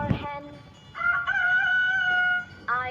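A rooster or hen gives a loud, close, drawn-out crow after a short cluck, with a second call starting at the end.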